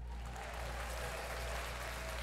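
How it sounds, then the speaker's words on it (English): A small group gives a brief round of applause, a short burst of soft, dense clapping over a steady low hum. "We'll do one more little applause."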